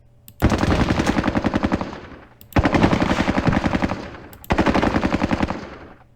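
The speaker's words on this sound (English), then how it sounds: "I'm simply going to try to fire on the enemy." Three sustained bursts of rapid automatic gunfire from the Vietnam War strategy game Squad Battles: Vietnam, each a loud rattling string of shots separated by short pauses, with no voices.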